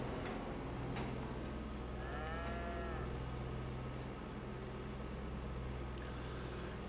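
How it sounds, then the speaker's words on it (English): Cattle in Farming Simulator 22 give a faint low moo amid a steady mechanical hum and light ticking from the game's farm setting, with no speech. "Eat it up, cows."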